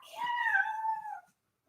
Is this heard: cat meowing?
yes